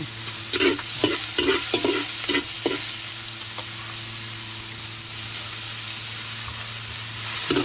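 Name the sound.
pork fat frying in a pan to render oil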